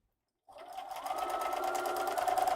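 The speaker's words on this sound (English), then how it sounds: "We are going to just sew them together real quick." A sewing machine stitches long fabric strips together with a quarter-inch seam, starting abruptly after silence and then humming steadily close by at an even, quickening pace with no talking.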